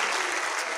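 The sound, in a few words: audience applause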